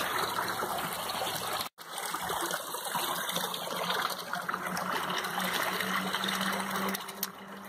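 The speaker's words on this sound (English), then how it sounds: "And it is a salmon spawning creek." A year-round salmon spawning creek stocked with coho flows steadily, giving a continuous broadband rush and trickle of water heard close up with no other sounds.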